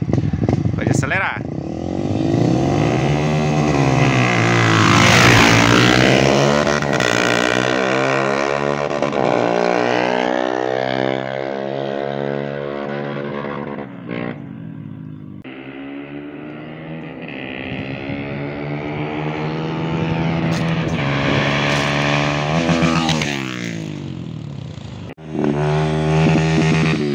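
Honda CRF 250F motorcycles accelerate in a drag race, engines screaming loud and near, with pitch rising through the gears and fading and surging again over about half a minute.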